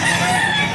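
A gold straight-comb rooster, about eight to ten months old, crows loudly and close by amid the steady background bustle of a pet market, with no talking heard.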